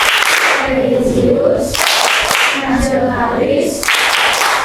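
Classroom students on their feet clap the rhythmic PPK clap chant, loud and close, in bursts of patterned claps mixed with their loud unison chanting.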